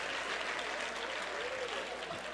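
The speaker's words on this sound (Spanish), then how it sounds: "Dale fuerte ese aplauso al Señor." Church congregation applauding during a Spanish-language sermon, a dense, steady roar of many hands clapping, fairly distant and evenly sustained for a couple of seconds.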